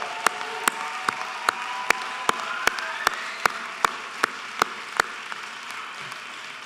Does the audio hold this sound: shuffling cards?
no